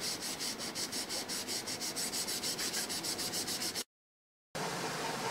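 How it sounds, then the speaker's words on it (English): A kitchen scrub pad rubs back and forth across a copper clad PCB sheet to strip the oxide layer, giving a steady rhythmic scraping of regular strokes, close and continuous, with a brief silent gap near the end. "you have to rub it with the kitchen scrub to remove the oxide layer from it and make it shiny."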